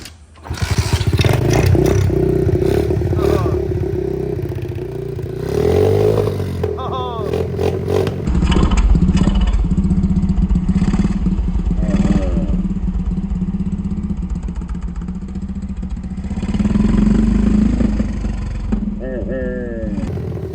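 A small Extreme Typhoon 90 ATV with a leaking carburetor and petcock runs with the choke on, its engine rough and loud close by, rising and falling in revs while people talk nearby.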